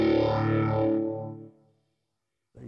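A heavily modulated electric guitar chord through a phaser pedal in the amp's effects loop, with a sweeping, swirling effect, ringing out loud and then fading to silence before a new note starts.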